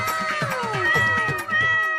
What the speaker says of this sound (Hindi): भैया वहाँ देखो, प्यारी सी बिल्ली जाल में।